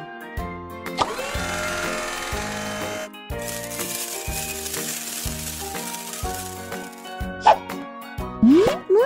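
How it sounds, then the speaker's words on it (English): A soft hissing pour of sand filling a container in a kids' baby care game, heard in two long stretches over cheerful looping music, followed by a few bright chime effects near the end. "fill it up with sand."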